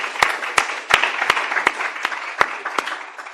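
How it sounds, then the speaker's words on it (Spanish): An audience at a talk applauds for Natalia, a moderate crowd clapping with distinct sharp individual claps standing out over the general patter, gradually tapering off. "Pues un fuerte aplauso también para Natalia"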